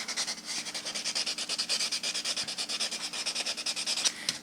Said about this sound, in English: I could get a little bit longer by buffing my little bit of ridges out